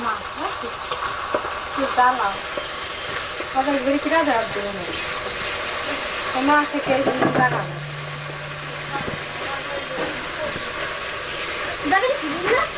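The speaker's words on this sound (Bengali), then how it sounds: "রসুন বাটা আর আদা বাটা দিয়ে আমি ভালো করে 2 মিনিটের মতো কষিয়ে নেব" Garlic and ginger paste sizzles and fries for duck curry, stirred steadily in a hot pan with repeated scraping strokes and a continuous crackle, and a brief low hum partway through.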